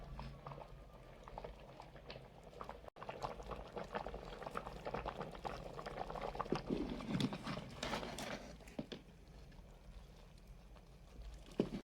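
Rice for biryani boils in a pot of water, a continuous bubbling and crackling simmer close by, rising and falling steadily with no talking.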